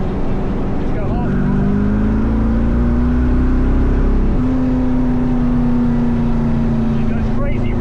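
LS-swapped Pontiac Firebird pulling hard at full throttle in third gear, a loud, steady engine drone rising in pitch with a brief shift or dip midway before climbing again, close and continuous throughout.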